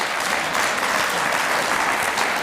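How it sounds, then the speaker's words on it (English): Attendees at a 2024 annual meeting give award winners another round of applause: a loud, continuous wash of many people clapping, filling the room evenly from start to finish. "how about another round of applause, please, for all of our award winners today?"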